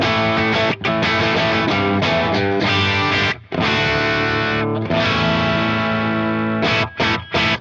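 Heavily distorted electric guitar through a Marshall-style amp model on a Fractal Axe-Fx/FM9/FM3, with a thick amp crunch, chords ringing loud and sustained with brief pauses between phrases.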